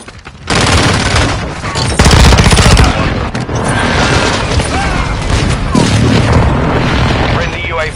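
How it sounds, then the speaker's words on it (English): Friendly airstrike explosions in Call of Duty Modern Warfare 2 on PS5, loud booming blasts and rattling machine-gun fire rolling continuously, heavy and close, with game voice callouts faintly mixed in. "Friendly airstrike"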